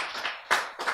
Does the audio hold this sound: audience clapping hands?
yes